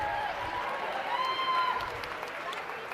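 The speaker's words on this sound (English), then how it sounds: "give a big round of applause to all of our young people out here" An audience at a youth swine showmanship livestock show applauds, a steady wash of many hands clapping in a large hall, with crowd noise and a voice over a loudspeaker mixed in.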